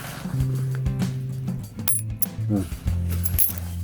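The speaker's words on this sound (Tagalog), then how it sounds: "lagyan natin ng barya ang bawat butas ng puste." Coins dropped one by one into the holes of wooden posts while building a goat shed hut, giving a few bright metallic clinks over a steady tonal background hum.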